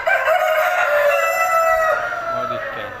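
An Indian-breed rooster crows loudly and close by in one long, sustained cock-a-doodle-doo that fills most of the moment and tails off near the end.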